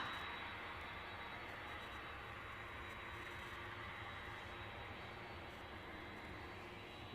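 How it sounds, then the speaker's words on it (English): A jet airliner, a Boeing 757 type, at Edinburgh airport, its engines roaring steadily and loud throughout as the aircraft passes nearby, with no speech. "This aircraft on its way back to New York JFK."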